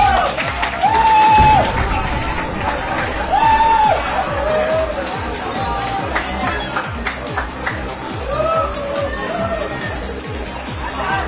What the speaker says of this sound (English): Now the crowd is going wild here!